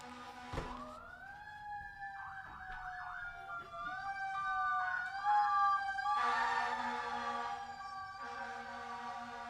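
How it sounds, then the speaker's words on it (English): An emergency siren wails and warbles steadily outside, rising and holding its pitch, fairly loud and continuous with no talking. "now there's a giant siren"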